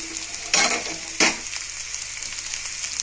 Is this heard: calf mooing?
no